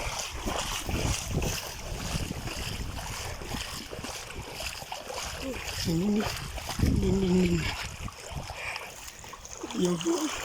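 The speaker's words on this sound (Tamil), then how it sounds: "ஓடையில் ஃபுல்லாக எல்லா நீரும் ஓடுகிறது" A stream running full after heavy, record rainfall rushes steadily in a broad, continuous wash of water near the microphone, with wind buffeting and a few voices talking over it.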